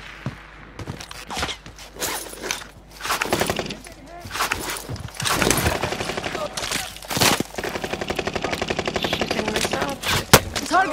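Gunfire in a video game: bursts of sharp, loud shots and rapid automatic fire come in clusters, denser toward the end, mixed with people talking.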